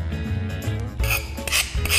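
Rasping rub of a carborundum stone slowly smoothing the edge of fused glass, a few repeated strokes with a steady scraping texture, close and fairly loud.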